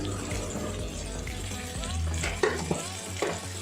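Vegetables frying in a pan with turmeric, red chili powder and spices for ridge gourd, stirred with a steady sizzle and scraping, a few louder clanks of the utensil near the end.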